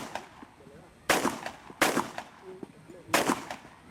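Gunshots at a shooting range crack out as three loud, sharp reports spaced about a second apart, with quieter background noise and faint voices in between.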